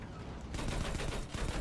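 Gunfire rings out in a Battlefield V multiplayer battle, a dense rattle of shots and booming reports over a continuous noisy wash. The crackle grows louder partway through and keeps going with no speech.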